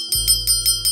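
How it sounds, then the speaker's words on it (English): A hand bell rings close and clear, struck in a quick series of about five bright, evenly spaced chimes over a sustained ringing tone. "And let me ring this bell."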